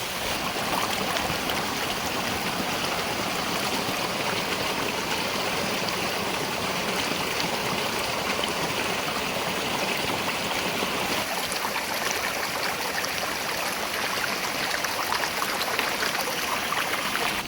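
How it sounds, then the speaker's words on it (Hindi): Rainwater flowing and seeping out of the ground in the mountains after heavy rain, a steady broadband rush of running water like a stream, continuous and fairly close throughout with no talk. "आज बारिश के कारण यहाँ से भी इसमें से पानी रिस के ज़मीन के अंदर से निकल रहा है।"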